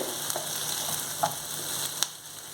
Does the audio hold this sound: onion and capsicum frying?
yes